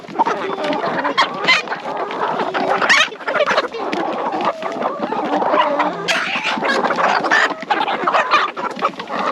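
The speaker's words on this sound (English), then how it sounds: "This one's a rooster." A yard full of chickens and roosters, including barred rock birds, clucking and squawking steadily and close by, a dense overlapping flock chorus with no talk.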